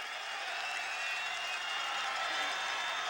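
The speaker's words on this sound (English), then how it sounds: "Fans have something to cheer about" Orange fans in a stadium crowd at a wet college lacrosse quarterfinal, Syracuse scoring first: a steady, dense roar of cheering and applause that holds level throughout, loud and distant-filling with no single voice standing out.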